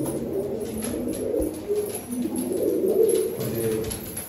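Pigeons coo repeatedly in low, throaty murmurs, several birds overlapping close by with a steady fluttering rhythm and no talking.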